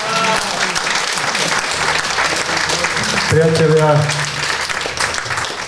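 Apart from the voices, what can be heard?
audience applause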